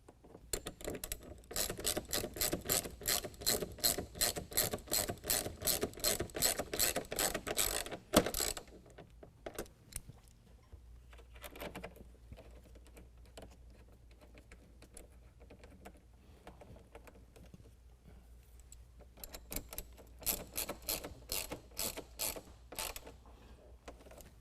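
A 10 millimeter ratchet drives factory hardware back into an aFe air scoop on a 2020 Ram 2500 6.7L Cummins diesel, giving quick close clicking bursts, then a quiet pause with faint handling, then more clicking.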